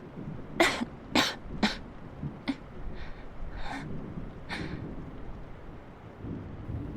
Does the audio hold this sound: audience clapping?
no